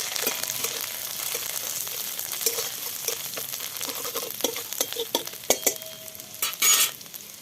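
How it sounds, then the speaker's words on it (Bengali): Grated ginger hits hot oil already tempered with five-spice in a pan, giving a close, steady sizzle punctuated by sharp crackles and spatula scrapes that grow busier and louder toward the end. "এবার আদা কুড়িয়ে রেখেছিলাম, সেই আদা ফোড়ন দিয়ে দিলাম।"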